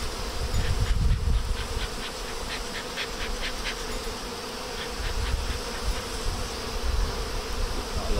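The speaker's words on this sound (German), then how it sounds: "Jede Menge Bienen drin, jede Menge Bienen drin." Honeybees swarm around an opened beehive, a dense, steady buzzing close by with individual bees whining past, with no voices.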